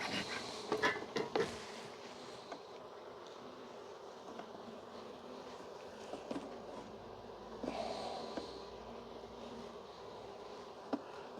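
Honeybees drone steadily around two large hives outdoors in March, a continuous low buzz with nearby bees briefly louder at the start and again mid-way.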